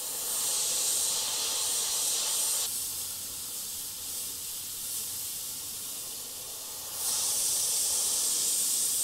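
An airbrush sprays blue candy paint onto skulls with a steady, close hiss that drops softer for a few seconds in the middle, then returns at full strength.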